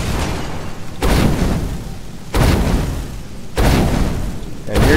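Enemies being set on fire in Skyrim, with three loud, heavy bursts of roaring flame, each sustained for about a second or more, one after another with short gaps.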